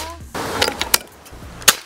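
Several sharp, crisp shots from an FX Airguns 500C PCP air rifle crack in quick succession, each a brief snap with a faint metallic ring.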